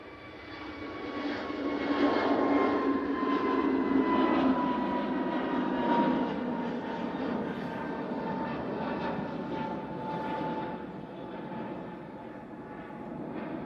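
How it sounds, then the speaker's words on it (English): An Easyjet Airbus A321neo bound for Malta starts its takeoff roll at Manchester Airport, its jet engines swelling into a loud, sustained roar that peaks early, then holds steady as it accelerates down the runway. "The Malta-bound A321 Neo now on the roll."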